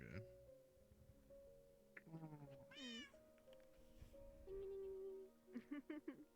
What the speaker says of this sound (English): Heard a meow